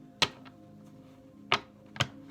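Tarot cards are shuffled in three brief, crisp bursts, one near the start and two close together near the end, against a quiet steady background with no one speaking.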